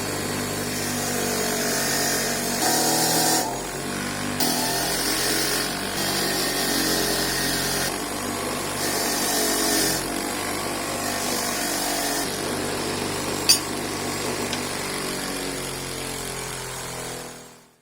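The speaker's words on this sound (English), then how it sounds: "And then a session on the wire wheel." A wire wheel grinds continuously against rear brake parts from a Triumph TR7 under restoration, a harsh, steady abrasive whir that swells and eases in pulses as the parts are pressed in and pulled back.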